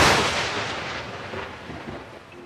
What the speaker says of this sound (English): Shots fired in the workplace.